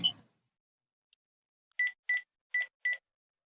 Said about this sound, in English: What's that beeping sound?